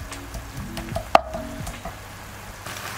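Beef fries in a pan with a soft, continuous sizzle beneath a sharp metallic clack, while low tonal kitchen hums drift in the background and nobody speaks.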